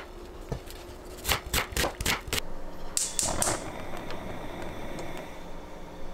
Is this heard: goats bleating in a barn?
no